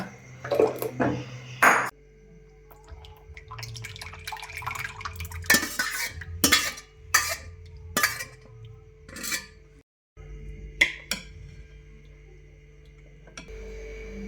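Milk for basundi being stirred in a metal pot: a ladle scrapes and clinks against the pot in irregular, close knocks and rattles, separated by quiet gaps, with no talking.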